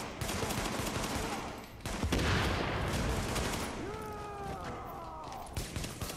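Pistol gunfire in The Division video game, with repeated cracks and dense shooting over a constant game background. A tonal effect sweeps through partway, and no one talks.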